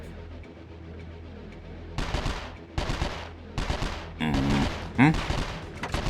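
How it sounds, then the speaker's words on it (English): An enemy sniper fires in 24: The Game, sharp loud gunshots cracking out in a quick irregular series of about five or six reports after a quiet start, with a brief murmur of voice. "one of them actually is shooting towards me"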